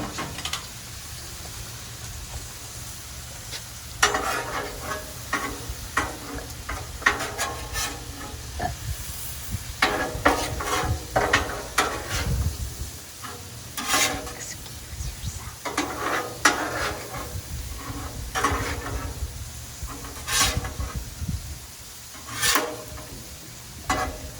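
Steak and butter sizzling on a Blackstone griddle for hibachi, a continuous frying hiss broken by repeated scraping and clacking of a spatula on the flat top, with no talk.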